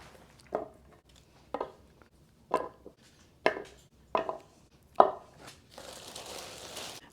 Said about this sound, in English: Now I'm going to peel and cut up a bunch of carrots.